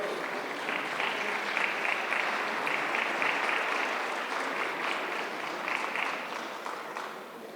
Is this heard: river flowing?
no